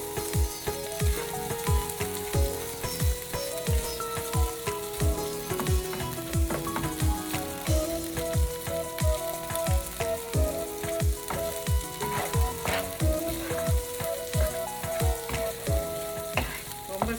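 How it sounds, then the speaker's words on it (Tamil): Onions fry in oil in a pan for coconut rice, a continuous close sizzle with regular stirring scrapes and clatters repeating throughout. "வெங்காயம்லாம் ரொம்ப பொரியணுன்ற அவசியம் கிடையாது."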